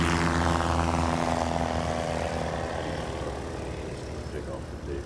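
A propeller-driven STOL airplane takes off at a short-takeoff competition in Gallatin, Tennessee, its engine a loud, droning buzz that starts strong and slowly fades as it moves away.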